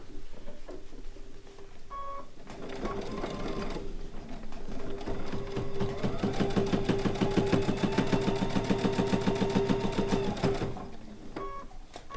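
A sewing machine fitted with a size 90 needle stitches a bowl cozy, its motor whirring steadily with a quicker stretch in the middle, framed by a few soft beeps at the start and end.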